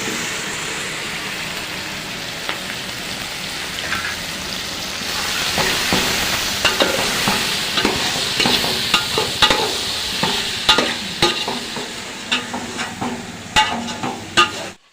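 Hot oil bubbling and sizzling in a pot for a tempering before bagara rice, a soft hiss that grows louder midway with irregular pops and stirring clatter near the end, no talking.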